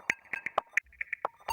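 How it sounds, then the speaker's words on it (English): A short disco drum loop for tech house, without vocoder, with crisp, evenly spaced hits and bright hi-hat accents in a quick, steady rhythm. "this drum loop sounds like this"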